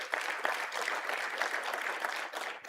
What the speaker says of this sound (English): Everybody give him applause for doing a lot of work and putting this together.